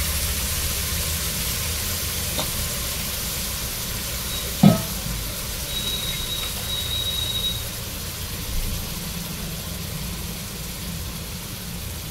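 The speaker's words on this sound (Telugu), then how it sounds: "మటన్ని ఆయిల్లో ఫ్రై చేసుకోవాలి" Washed mutton fries in hot oil with turmeric in a pan, giving a steady, loud, close sizzle with soft stirring scrapes and one brief sharp clatter midway.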